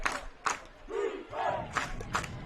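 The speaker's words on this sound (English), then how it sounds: "I hear the Panther crowd, charging hard with the defense chant here" A high school football crowd at an Indiana game chants a defensive cheer from the stands, rhythmic collective shouts rising and falling in bursts, moderately loud with a roomy, distant quality.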